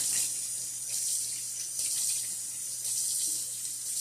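Hot water runs steadily from a tap in a continuous hissing stream, close by, with a faint low hum underneath and no talking.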